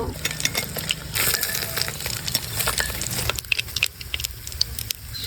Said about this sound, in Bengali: ডিমগুলো ওপাশ এপাশ করে ভেজে নিয়েছি